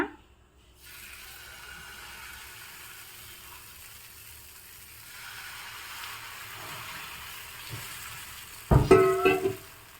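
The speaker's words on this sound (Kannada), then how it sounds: "ಇವಾಗ ಪ್ಯಾನ್ ದೋಸೆ ಪ್ಯಾನ್ನ ಬಿಸಿಗಿಟ್ಟಿದ್ದೀನಿ ಆಗ ದೋಸೆನ ಹಾಕ್ಕೊಳ್ಳೋಣ" Dosa batter sizzles and crackles on a hot dosa pan in a village kitchen, a steady low frying hiss that swells toward the end with a loud burst of spattering and clatter, with no talking.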